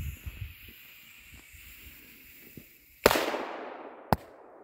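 A Demon Cracker firecracker explodes in deep snow with one sharp, loud bang and a hissing decay, then a second shorter crack follows a moment later, after some quiet rustling.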